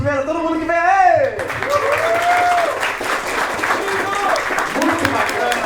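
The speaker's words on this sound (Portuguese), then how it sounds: "uma salva de palmas primeiro" An audience breaks into steady, dense applause at a live evening talk event in a shop, continuing loudly throughout while a voice speaks over it at the start.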